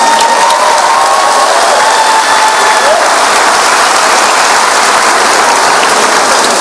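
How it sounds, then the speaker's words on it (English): A large audience applauds at a community college commencement ceremony, a dense, steady wash of clapping that holds evenly loud from start to finish with no talk over it. "Come on, give it a better round of applause."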